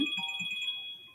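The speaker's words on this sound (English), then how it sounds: "My phone decided it wanted to ring" A mobile phone rings nearby, a bright electronic melody with a steady tone that lasts about a second before cutting off.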